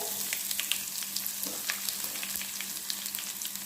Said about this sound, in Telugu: ఆయిల్ అయితే హీట్ అయిన తర్వాత ఆవాలు అయితే వేసేసుకుందాం. జీరా కూడా వేసేసుకుందాం.